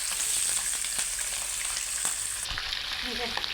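Small hilsa fish frying lightly in hot oil, a continuous close sizzle that carries on steadily and drops off a little near the end, with no talk.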